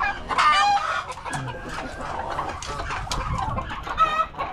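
Brooding hens on a farm cluck in short, scattered bursts at close range, with a few sharper squawks among them and no talk.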